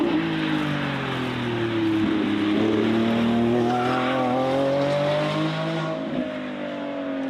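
A Lamborghini Revuelto engine drives by in California, its pitch rising and falling as it revs, with a tire squeal and skid on top of a loud, sustained roar.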